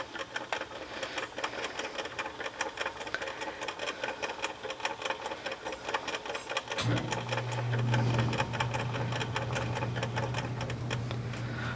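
A Philco D-10 record changer mechanism runs with a steady, rapid mechanical clatter and rattling, clanking rhythm, deepening into a heavier hum partway through, close and continuous.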